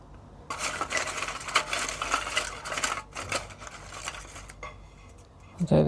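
Paper prompt slips tumble into a pot for a Stargate SG-1 themed board game at a tabletop: a sustained run of close, dry rustling and light clattering, with a sharper knock at the very end.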